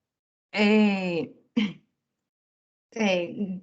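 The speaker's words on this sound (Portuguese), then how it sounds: "Gente, vontade de tossir." A person clears their throat three times, a long raspy rumble, then a short catch and another drawn-out clearing, close and loud against silence.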